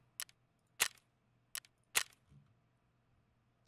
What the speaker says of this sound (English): Where were those shots going?